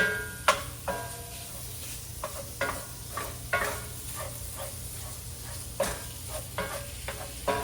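Sausage browning in a hot skillet for an Italian keto frittata: a steady sizzle and hiss with occasional spatula scrapes and clanks against the pan, close and continuous.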